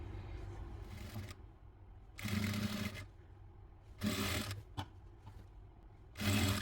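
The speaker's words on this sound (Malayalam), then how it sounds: "ഇനി നമുക്ക് സ്റ്റിച്ച് ചെയ്തെടുക്കാം." A sewing machine stitches the neckline of a nightie in four short bursts of rapid needle chatter, each about a second long, separated by quieter pauses with low background hum; no talking.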